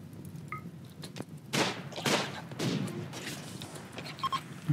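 A few sharp gunshot bursts crack out amid a noisy RimWorld game soundscape, some booming louder than others, with no talking.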